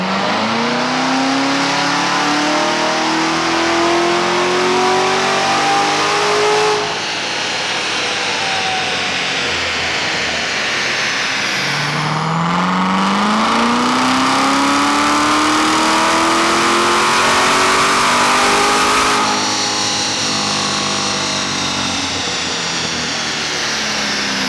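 A 2017 Corvette Z06 with a manual gearbox and Borla axle-back exhaust revs loudly and close by. Several long rising engine sweeps climb and fall across the clip, and the exhaust roars steadily between pulls. No one speaks.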